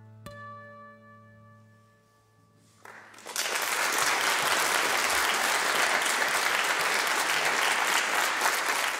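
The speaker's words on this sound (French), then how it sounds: "On les applaudit très très fort" A sustained final chord of a concert song rings out and fades, then the audience erupts into loud, dense applause that carries on steadily to the end.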